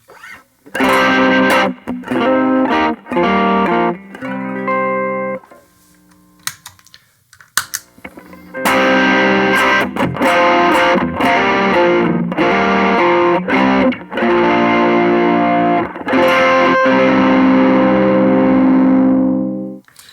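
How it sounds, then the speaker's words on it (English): Electric guitar plays through a distortion pedal, heavily distorted, with loud chords and riffs in bursts, a short pause midway, then sustained crunchy playing. "this is a distortion pedal, so you can listen to the differences here"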